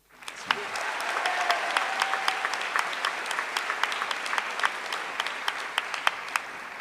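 An audience at a 2025 presidential primary debate breaks into steady applause, with dense clapping and sharp individual claps rising above it, lasting several seconds without speech.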